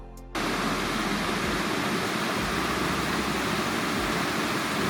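A waterfall in Sapa, Vietnam, carrying muddy water, roars as a loud, steady broadband rush that starts abruptly after a brief quiet moment and holds constant, with no voices.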